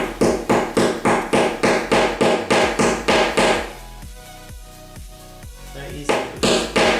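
Metal T-nuts hammered into a wooden pinball playfield: a quick, regular series of sharp hammer blows, close and loud, then a brief pause with quieter sounds before the hammering picks up again.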